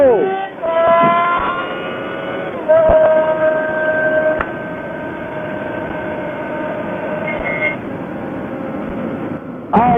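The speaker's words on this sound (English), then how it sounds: "Alright, so I am enjoying the exhaust a lot." Car fitted with a CSRacing aftermarket exhaust drives along, a steady droning exhaust note with tonal whine that rises and settles as it accelerates, close and loud throughout.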